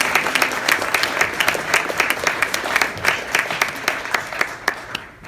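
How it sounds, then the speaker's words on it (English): Audience applause for the panelists at a blockchain life sciences panel event, a sustained dense wash of many hands clapping that stays loud throughout and thins slightly at the end. "So I would like you to give a big hand of applause to our"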